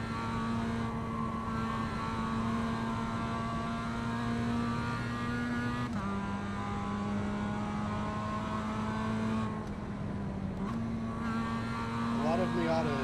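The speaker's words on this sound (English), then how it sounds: "This engine is working trying to get up this hill. Like in second gear, it's just screaming." A Mazda Miata engine in the iRacing sim, held in second gear and straining uphill: a loud, steady, high-revving drone with brief dips in pitch, and a voice talking over it.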